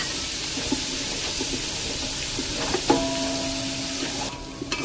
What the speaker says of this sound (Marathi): गार्लिकला छान 1 मिनिटभर या तेलामध्ये फ्राय करून घ्यायचंय, छान गोल्डन रंग येऊस्तोवर